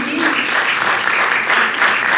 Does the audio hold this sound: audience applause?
yes